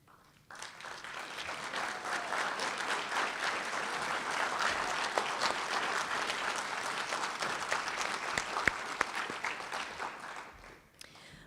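A Hall of Fame dinner audience breaks into a long, steady round of applause, many hands clapping densely for about ten seconds before it fades out.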